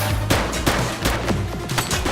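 Rapid gunshots crack out in The Precinct, a police game, firing in quick irregular bursts of about a dozen loud, close reports within two seconds.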